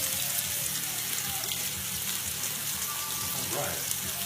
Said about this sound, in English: Got a nice little sear going on here.